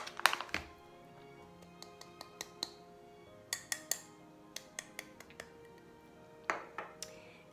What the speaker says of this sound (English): I'm going to put a 1/4 cup of zinc oxide in here and a 1/4 cup of zinc oxide, give or take, in here